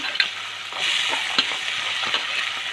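Small potatoes, carrots and a few French beans fry in a turmeric-seasoned pan with a steady broad sizzle, which swells louder partway through, while a few sharp stirring clicks land on top.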